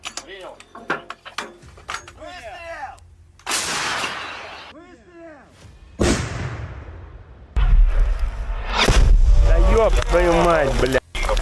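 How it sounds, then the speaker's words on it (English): Artillery shelling of Ukrainian positions by a Russian artillery unit, with sharp loud blasts and crackling impacts breaking in between bursts of radio-like chatter and voices. "Russian forces deploy artillery unit to shell Ukrainian positions"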